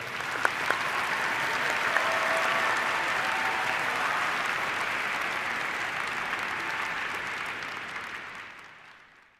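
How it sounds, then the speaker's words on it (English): A large audience at the UNHCR Nansen Award ceremony breaks into sustained, even applause lasting several seconds, dense hand-clapping filling the hall before it gradually fades out. "all together we share an applause for them that far away"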